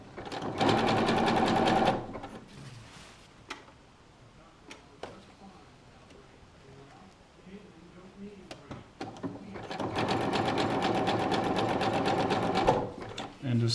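Sewing machine stitching fabric into a toilet hammock, a rapid mechanical whir that runs in two loud bursts, at the start and near the end, with quieter handling clicks and a voice talking between them.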